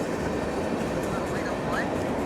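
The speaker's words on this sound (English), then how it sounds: "Yeah, I'm watching a train." A train rolls past downtown near a parking lot, producing a steady, continuous rumble with faint rail squeals, heard from nearby while waiting for it to pass.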